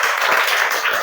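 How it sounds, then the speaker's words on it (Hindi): Students in a classroom applaud at the teacher's request, a dense, continuous wash of many hands clapping close by for about a second. "तालियां प्लीज"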